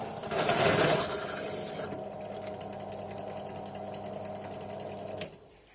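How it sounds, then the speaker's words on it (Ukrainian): A drill bores through a cast iron coupling for a T-25 tractor's primary shaft with a steady, fairly faint mechanical whir. It is louder at the start and stops abruptly near the end, with no talking. "І починаю навсквозь сверлити, щоб співпало."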